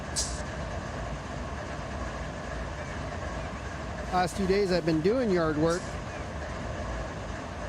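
Train in the Run 8 train simulator game, a steady low rumble of locomotive and rolling stock running continuously under a brief stretch of someone talking.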